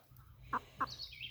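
Buff Orpington chickens on a farm give two short, faint clucks about a quarter second apart, followed by a thin high chirp.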